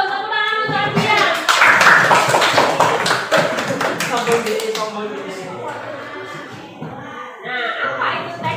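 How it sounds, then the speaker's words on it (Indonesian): A classroom of students clapping for a classmate, a short burst of close claps over voices, trailing off as children talk and call out in the room. "tepuk tangan untuk Adian"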